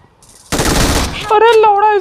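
Gunfire in the mobile shooter game BGMI: a loud, close burst of rapid shots lasting about half a second, followed by a tonal in-game alert sound.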